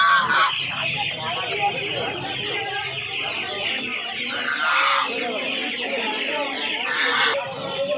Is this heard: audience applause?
no